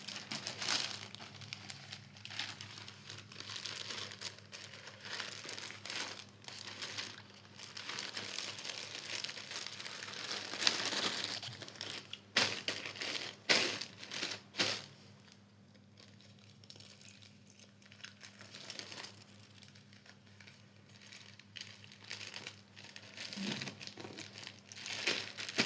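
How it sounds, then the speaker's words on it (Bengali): A cotton T-shirt is pushed and folded into a plastic e-commerce mailer bag, giving close, loud, continuous crinkling and rustling with sharper crackles and tearing-like bursts throughout, and no talking. "এখন আমি এটা প্যাক করতাম, তো আমি এটা প্যাক করতাম ঢুকাই দিই।"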